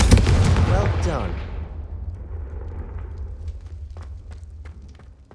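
A Confringo fire spell in Hogwarts Legacy bursts with a loud, close blast that rolls into a long fading rumble, followed by faint scattered crackles.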